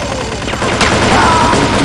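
Rapid gunfire crackles in a dense, continuous burst in a multiplayer video game played on a Power Mac G4, loud and steady with a brief heavier crack midway and no voices.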